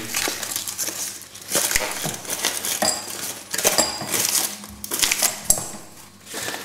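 Pieces of chocolate, about a bar and a third, tumble into a metal saucepan in a run of clattering, clinking drops with small bursts of rattling, close up and fairly loud, with no talking.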